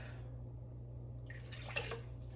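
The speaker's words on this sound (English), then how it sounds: "But I'm going to add the water." Water poured into a cooking pot in a home kitchen while making baked salmon, a faint brief splash and trickle near the end over a steady low hum.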